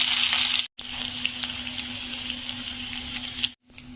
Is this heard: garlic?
yes